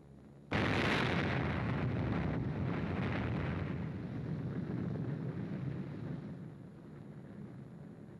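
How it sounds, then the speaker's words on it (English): An atomic bomb explodes over the North Factory District of Nagasaki. After a faint start, a sudden massive blast erupts into a sustained roaring rumble that slowly settles but keeps rolling for several seconds. "This bomb, exploding over the North Factory District"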